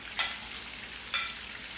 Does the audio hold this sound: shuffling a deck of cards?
no